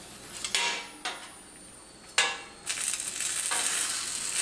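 Hatch chili peppers blister and char in a hot oven, giving soft crackling sizzle with a few sharp pops and clatters, the sizzle swelling louder toward the end.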